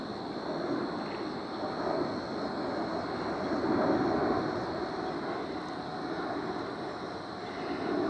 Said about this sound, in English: of aircraft overhead